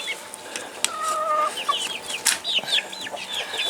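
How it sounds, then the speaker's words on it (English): Half-grown sex-link chicks, nearly full-sized birds, cluck and chirp outdoors in a flock, a busy overlapping run of short calls and a few longer squawks at close range. "here's our Orscheln chicks, which are really no longer chicks."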